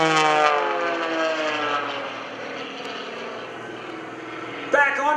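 Gary Ward's 300-horsepower aerobatic airplane drones overhead at the Greenwood Lake airshow, a loud propeller engine with a sweeping, shifting pitch that fades somewhat as the plane climbs vertically, with a brief bump near the end.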